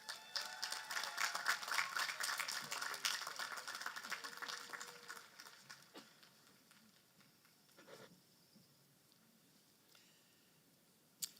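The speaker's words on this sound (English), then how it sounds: "Ladies and gentlemen, let us applaud the promising class of 2023." Audience at the Elmira College 2023 commencement applauds the graduating class, a dense, loud burst of clapping that gradually thins and fades to scattered claps and quiet.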